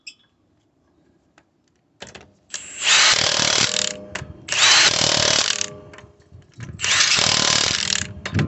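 Power tool tightening the wheel bolts on a Volvo S60/V60 after a rear brake pad change, three loud buzzing bursts of a few seconds each after a short quiet start.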